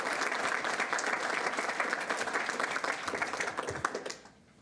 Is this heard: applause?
yes